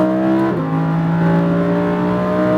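A Lamborghini Huracan engine roars loud and close on a track, its pitch climbing under acceleration and then dropping sharply at a gear shift before rising again.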